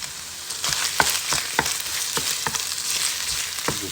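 Six pasture-raised eggs fry in a hot pan with a steady broadband sizzle, broken by sharp clicks and spatula scrapes roughly every half second; close and continuous, no voices.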